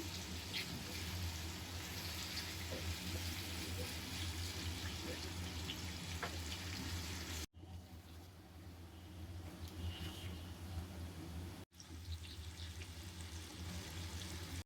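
Oil heating in a pan for frying onions for a Bengali wedding-style chicken roast, giving a steady, close sizzling hiss that runs through the whole stretch with brief cuts, while a person talks over it.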